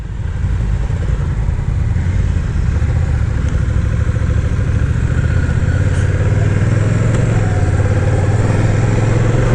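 A Honda Rebel 1100 DCT motorcycle rumbles steadily while being ridden at a rally demo, a low, continuous engine drone with road and wind noise, close and loud throughout.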